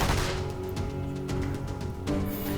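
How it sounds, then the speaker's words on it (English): Gunfire erupts in the video game Rebellions: Secret Game, a dense, continuous clatter of shots with sharp bursts under a steady roar, loud and close throughout with no speech. "there was immediate gunfire, and holes were gouged into the nearby tree"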